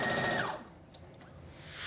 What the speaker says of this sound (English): Now we're going to stitch in a 5/8 inch seam allowance.